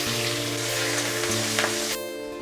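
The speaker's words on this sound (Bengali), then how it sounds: "ওই তেলের মধ্যে দিয়ে দেবো রসুন," Garlic, ginger and chopped green chilli sizzle steadily in hot oil left over from frying chicken for chilli chicken, a dense continuous crackle throughout with a brief stir near the end and no speech.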